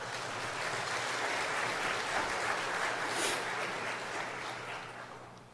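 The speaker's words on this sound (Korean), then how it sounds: "네, 박수 한번 주세요." Church congregation applauding a man's wife as she stands up during a sermon, a steady wash of clapping that holds for several seconds before thinning at the end.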